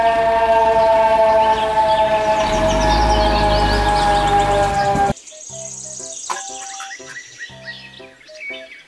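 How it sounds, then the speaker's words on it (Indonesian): A toy fire truck siren wails loudly and steadily for about five seconds, then gives way to a run of short, beeping electronic toy tones. "Mobil truk pemadam kebakaran."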